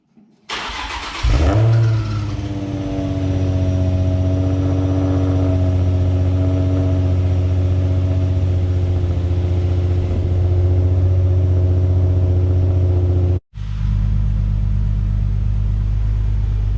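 A straight-piped Infiniti G35 engine cranks and fires up into a loud, deep, raspy idle that holds steady, briefly cuts out, then roars back even louder.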